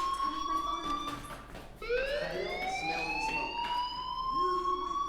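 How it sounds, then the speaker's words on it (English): Electronic fire alarm wailing inside a school bathroom in the Life is Strange video game, a loud continuous siren with rising and falling tones that jumps higher midway and keeps sounding throughout. "Hey, do you hear that fire alarm?"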